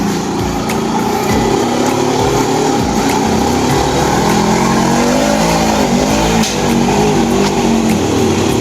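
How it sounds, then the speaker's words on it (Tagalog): A motorcycle engine revs loudly and strains while hauling sand uphill, a close, continuous roar whose pitch rises and dips with the load, with no talk over it. "Lakas ng motor oh."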